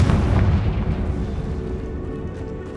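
A Confringo spell explosion in the video game Hogwarts Legacy booms loud and close, then rumbles on as a dense, fading blast for nearly three seconds.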